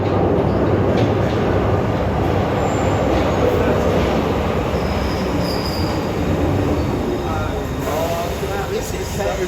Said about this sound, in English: Just like that, train approaching